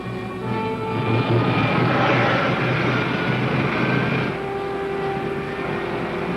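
A rocket ship's pilot jet fires with a loud, steady, roaring whoosh carrying a tonal engine hum, easing slightly toward the end.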